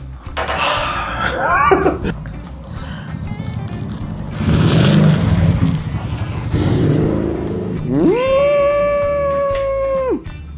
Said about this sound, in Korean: 방금 전에 저 오토바이 소리랑